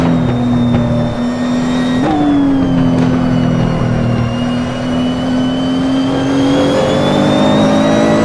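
A race car drives through a curve on a circuit, its engine holding a loud, close, steady drone. The pitch steps up once as the gears change, then climbs slowly under acceleration, with no talking.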